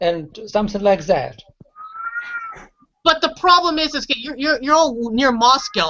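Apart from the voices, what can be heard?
cat meowing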